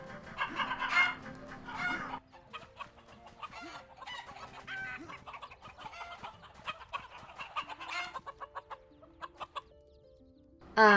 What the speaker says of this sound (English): I can just melee the chicken. Bad chicken!